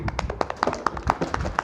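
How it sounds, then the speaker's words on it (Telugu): A group of people clapping hands together on cue during a devotional storytelling session, about a dozen sharp, fairly evenly spaced claps over a short stretch, close and moderately loud with no talk over them. "అందరూ ఒకసారి ఇట్లా చప్పట్లు కొట్టండి"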